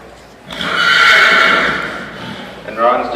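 A vanner horse at a fair in Caledon, Ontario lets out one loud, close whinny lasting about two seconds, followed by a shorter rising call near the end, with faint hoof and ground noise beneath.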